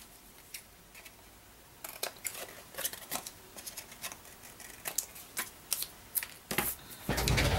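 Paper trimmed along a cutting mat's edge for a handmade birthday card, heard as quiet, irregular sliding and clicking strokes of a trimmer, close up and alone, growing louder near the end.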